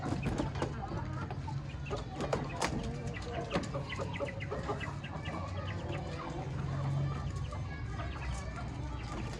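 Hens on an Aseel hen farm cluck and cackle in many overlapping short, sharp calls that keep up at close range throughout, with a person talking quietly among them.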